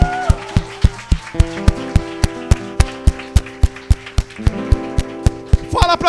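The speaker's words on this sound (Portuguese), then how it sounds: "Aplauda o Senhor!" A church congregation claps in strong, even time along with music during a sermon, each sharp beat landing roughly three times a second over sustained tones, with a brief louder flurry near the end.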